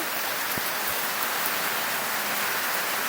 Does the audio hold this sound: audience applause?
no